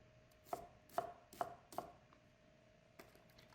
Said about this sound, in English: Then we'll cut up some onion